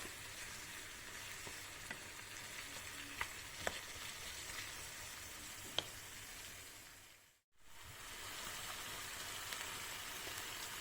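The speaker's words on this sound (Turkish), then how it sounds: "güzelce kavurmasını sağlıyoruz. İyice kavrulacak." Minced meat and onion frying in a pan for Ali Nazik, a steady close sizzle with a few light clicks of stirring and a brief break near the end before it resumes.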